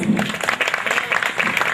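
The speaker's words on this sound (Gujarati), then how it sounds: "તાળીઓ પાડીને મ્યુઝિક વાળાને વધાવો" An audience at a karaoke stage show of old songs claps for the music crew, dense continuous applause throughout the short stretch, loud and close.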